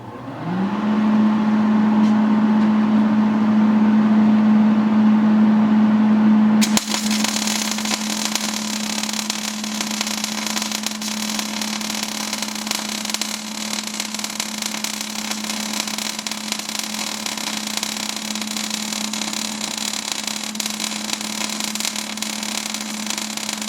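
A MIG welder set to DC positive runs continuously, with a steady machine hum at first, then a loud constant crackling hiss as the arc strikes and holds for the rest of the clip.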